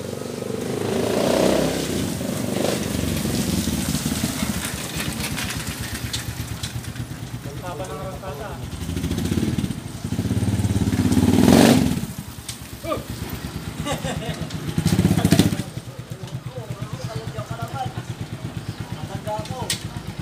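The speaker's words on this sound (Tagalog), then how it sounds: "niroad test ko lang na naka-sidecar para ma-experience ko naman yung 175cc na TMX 125" A Honda TMX 125 motorcycle converted to 175cc with a sidecar runs nearby, its engine drumming steadily and swelling with throttle at times, under ongoing conversation.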